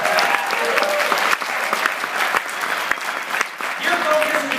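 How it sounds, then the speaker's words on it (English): A seminar audience at a regional success training in Toronto gives a loud, sustained round of clapping for the people present, dense and continuous with a few sharper claps standing out, and a voice can be heard faintly underneath. "You guys give these people a big round of applause for being here."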